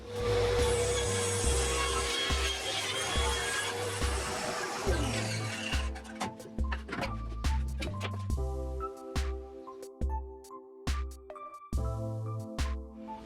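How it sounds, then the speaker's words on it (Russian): A JIB 25102 circular saw table rips through a pine workpiece set for a 10 mm cut, a loud whining bite for about five seconds, then the blade spins down with clunks and handling knocks. "Пропилю заготовку, посмотрю ее толщину"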